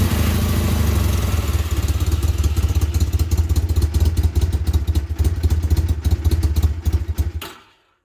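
A 1985 Honda Rebel 250 motorcycle, running a little rich on a cold start, idles with a loud, close, rapid chugging and mechanical clatter, the rhythm stumbling slightly before the engine dies and cuts to silence in the last half second.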